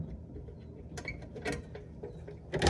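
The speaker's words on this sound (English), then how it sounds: "close the door." A wooden front hatch door on a backyard chicken coop is swung shut and its small latches fastened, giving a few soft creaks and light clicks, then a louder knock as it closes at the end.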